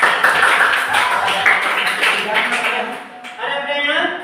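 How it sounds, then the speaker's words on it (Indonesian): A classroom group applauds group 3, a short burst of clapping mixed with voices that tapers off midway, then lighter scattered claps under continued chatter. "Berikan tepuk tangan untuk kelompok 3."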